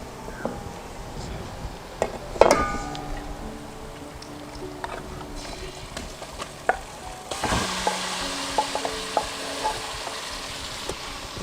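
Marinated chicken for a Kerala-style chicken vindaloo sizzles and fries in a pan with softened onions, with a spoon scraping and stirring at intervals. A sharp clank comes early, and the frying swells louder partway through.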